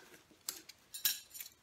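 Titanium knife, fork and spoon clink against each other in a few short metallic taps and a brighter jangle, close and fairly quiet, with no voices.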